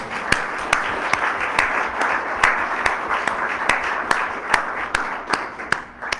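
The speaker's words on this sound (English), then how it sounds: "Let's just recognize them again fully for their participation" An audience applauds a panel at a geoscience lecture event, a steady mid-level wash of clapping with a few sharper claps standing out, sustained throughout without talk.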